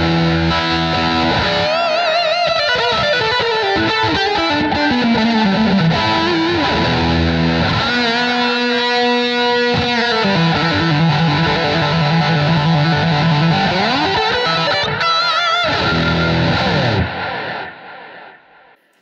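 An overdriven electric guitar through a Blackstar ID:CORE V4 Stereo 40 amp plays a sustained melodic lead line with bends and slides, delay echoes filling the gaps between notes.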